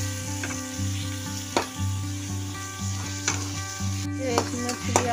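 Minced mutton keema frying with ginger-garlic paste in a pan, a loud continuous sizzle with repeated spatula scrapes and stirring knocks over a steady hum, close up with no talk.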